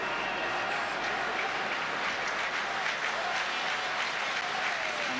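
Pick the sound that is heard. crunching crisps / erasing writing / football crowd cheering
football crowd cheering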